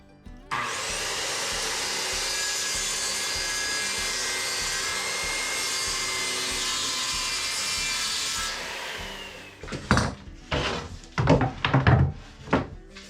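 Power saw cutting through plywood for a workbench top, a loud steady whine lasting about eight seconds before winding down, followed by a few short knocks and clunks as the pieces are handled.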